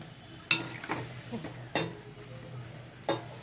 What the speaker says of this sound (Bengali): রস বড়াগুলো আমি ভাজছি।